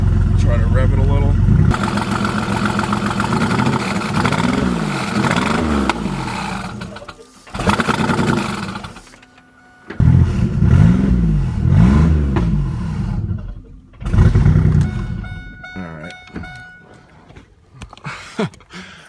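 A 3800 Series 2 twin turbo engine in a Camaro build running on its first start, revving in several rising and falling bursts with pauses between them, while people talk nearby.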